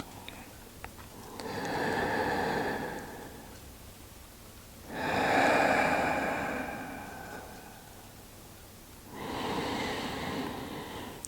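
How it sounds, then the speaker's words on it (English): Slow, deep abdominal breaths drawn in and pushed out in three long, soft airy swells of rising and falling breath noise, heard close and alone with no talking. "Long breath in, the abdomen blows up. Gently squeeze the abdominal muscles to breathe out."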